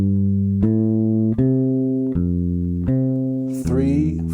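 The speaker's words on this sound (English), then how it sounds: "Just playing those 4 notes, changing the order of the triad." Bass guitar walking a line of triad notes through a chord progression, third, fifth, root, fifth, each note plucked clearly in a steady, even rhythm, alone and close.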